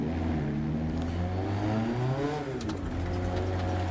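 Game car engine in Dirt 2, played in VR, revs steadily and loudly in first gear, with rising and falling harmonic pitch sweeps as it pulls away, close and continuous with no talk.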